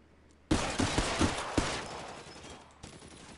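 Rapid, loud machine gun bursts rattle out in the L.A. Noire VR video game, several sharp shots close together followed by a fading echo and one last shot.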